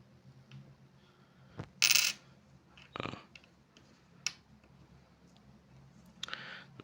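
Old coins are handled up close, with a few sharp metallic clinks and taps spread irregularly among quiet rustles and small clicks, no talking.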